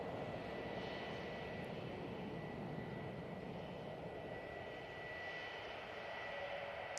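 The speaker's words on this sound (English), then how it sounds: "We've got this mighty orange coming in from Belfast. It's an A380, departed about 30 minutes ago." An Airbus A380 landing at Manchester Airport, arriving from Belfast, heard as a steady, broad, distant engine roar that holds level for several seconds with no voices.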